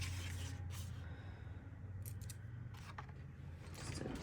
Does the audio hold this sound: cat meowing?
no